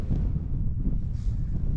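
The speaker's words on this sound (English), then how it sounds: "30-mile-an-hour wind, so not too bad." Steady, strong wind of around 30 mph buffets a lightweight Lanshan 1 tent at a wild camp in Northumberland, giving a continuous low roar and rustle close to the microphone with no voices.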